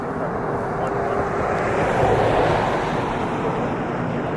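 A Republic Airways Embraer 175 jet lining up on an Ottawa airport runway, a steady broad engine roar heard from a distance with wind noise throughout.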